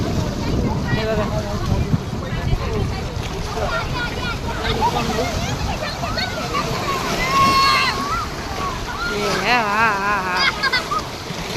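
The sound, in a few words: sea waves at the beach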